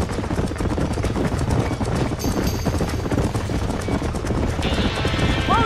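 Horse hooves galloping in the Red Dead Redemption video game, a steady rapid clatter under dense game sound and music, with a burning barn nearby.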